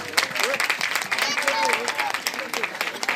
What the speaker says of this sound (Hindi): बच्चों के लिए, बच्चों की टीचर के लिए जोरदार तालियां एक बार बजाएं